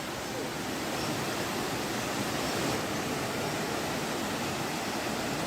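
Water pours steadily down the tiered Elephant Falls near Shillong, a dense, continuous roar that fills the scene without letting up.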